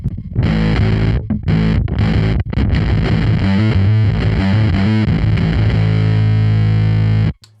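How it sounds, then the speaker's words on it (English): Bass guitar played through a Korg Nu:Tekt HD-S harmonic distortion pedal used as a bass fuzz, loud, thick, buzzy notes and chords with a few short gaps, then sustained gritty tones ringing out before cutting off. "I would prefer, I think, the harmonic distortion as a bass fuzz."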